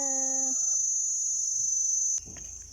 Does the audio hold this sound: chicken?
yes